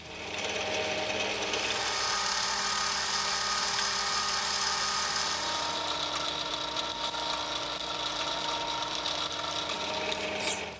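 A steady, continuous machining whir of a deep hole being drilled and then sized with an 8mm reamer while making a Starrett-style tap wrench, close and even throughout, with a few faint high squeaks toward the end and no talking.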